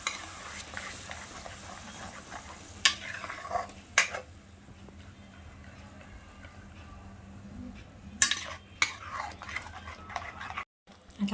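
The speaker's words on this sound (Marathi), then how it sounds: "आता आपण त्यामध्ये पालकची पेस्ट टाकून घेऊया. आणि ती पण चांगली आपण परतून घेऊया." Spinach paste for palak paneer is stirred and sautéed in a pan, giving a soft continuous sizzle with occasional sharp scrapes and clinks of a spoon against the pan at irregular intervals, fairly quiet and close.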